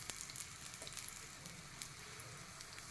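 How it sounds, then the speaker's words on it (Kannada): Coriander seeds frying in hot oil give a steady, soft sizzle with scattered tiny pops and crackles, close and continuous throughout. "ಕೊತ್ತಂಬರಿಯನ್ನು ಚೆನ್ನಾಗಿ ಫ್ರೈ ಮಾಡ್ಕೊಂಬಿಡೋಣ"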